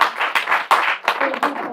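A live audience at a Caribbean community event claps in a short, lively burst of applause, mixed with a voice speaking over the crowd.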